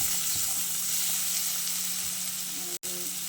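Tomato, onion, garlic, ginger and two green chilies fry in oil with a loud, continuous hissing sizzle and faint stirring. A brief moment of silence falls near the end.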